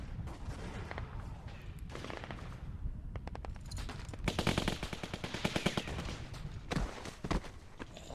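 Rapid machine gun fire in The Walking Dead game, long rattling bursts of closely spaced shots, loud and close, with sporadic single shots throughout.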